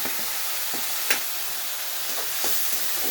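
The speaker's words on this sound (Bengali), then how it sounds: "তারপরে দিয়ে দেবো চিংড়ি মাছ বাটাটা চিংড়ি মাছ একটু ভাজা ভাজা হয়ে গেলে" Ground shrimp paste fries in a pan with a steady broad sizzle and hiss, broken by a few sharp stirring scrapes and spatters, close and fairly loud with no voices.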